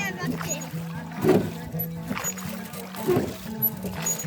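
A rowboat on the water among the Marble Rocks gorge at Jabalpur: soft oar splashes and sloshing at a slow, regular pace, heard faintly beneath continuous nearby talk.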